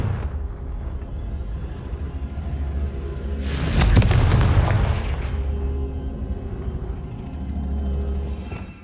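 A Confringo fire spell goes off in Hogwarts Legacy, a heavy booming blast that swells midway and rumbles away over a low continuous game ambience, with a softer second surge near the end.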